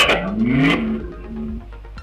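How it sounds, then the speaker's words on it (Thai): An Energy RG04 portable Bluetooth speaker switches on and plays its Bluetooth mode prompt, a short rising electronic tone with voiced chime-like notes, heard up close and alone. "มีเสียง Bluetooth mode"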